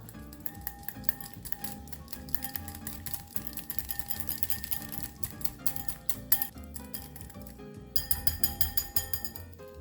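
Sriracha sauce being stirred in a bowl for a kabob dipping sauce, with repeated clinking and scraping of a utensil against the dish, light and irregular, no voices.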